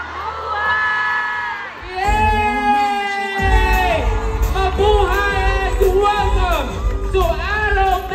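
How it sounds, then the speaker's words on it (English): A crowd of fans at a fan sign launch event screams and cheers loudly, many voices yelling and whooping together in sustained bursts that swell and keep going. "Friends, I would love to hear you scream and say"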